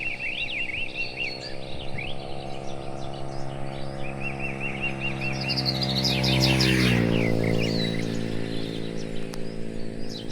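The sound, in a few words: birds chirping in countryside rice fields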